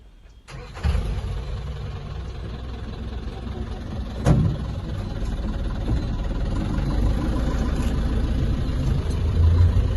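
A safari jeep's engine starts up and keeps running steadily, close and fairly loud, with a brief bump partway through, as the vehicle heads into Bandipur national park in Karnataka.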